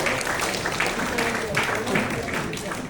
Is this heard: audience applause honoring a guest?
yes